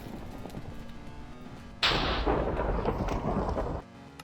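A lightning strike in Minecraft lands as a sudden loud thunder crack and rumble that holds for about two seconds before cutting off, rising sharply over a quieter game background.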